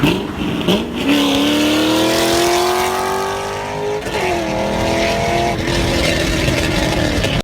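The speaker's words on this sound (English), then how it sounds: "like this in an American muscle car" An American muscle car's V8 climbs through the revs twice, a loud, close, rasping roar that dips after each pull and then surges again.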